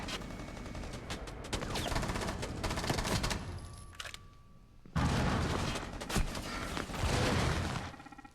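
Gunfire in a video game: dense bursts of rapid automatic shots and loud fusillades, a brief lull with a thin electronic tone, then heavy firing resumes, close and loud, no voices.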